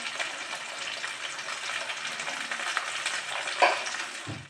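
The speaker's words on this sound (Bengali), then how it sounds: "একটু ভালো করেই ভাজতে হবে।" Pointed gourd (potol) fries in a pan with a steady, close sizzle, and a brief clatter of stirring comes near the end.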